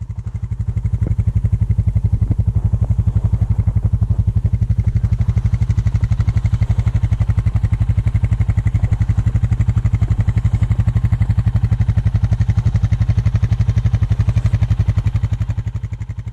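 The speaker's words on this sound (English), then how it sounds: "To demonstrate how much ground clearance a four-wheeler has, I attempted to drive over the top of my GoPro." A four-wheeler ATV engine runs on snow, a loud, steady low rumble with rapid regular pulsing that holds constant throughout, close by and alone without talk.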